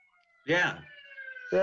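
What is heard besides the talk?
ambulance siren passing by outside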